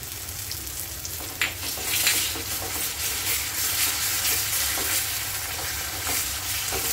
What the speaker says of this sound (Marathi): आता याच्यामध्ये मी आले लसूणची पेस्ट टाकते.